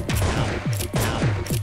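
Gunshots in a video game fire in a rapid string of about four or five loud, close blasts, each with a quick booming tail.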